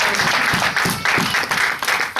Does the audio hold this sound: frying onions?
no